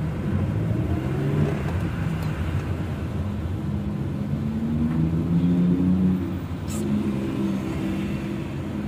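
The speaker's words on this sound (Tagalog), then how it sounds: "Ito lang talaga ang traffic dito sa flyover, bagong gawang flyover." Traffic on a newly built flyover, with a continuous low engine drone from passing cars and a vehicle accelerating, steady throughout with no talk.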